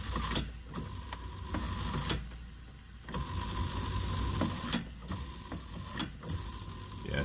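Refrigerant hisses and flows through an open king valve with its solenoid removed, a faint continuous rushing broken by soft mechanical clicks and handling knocks.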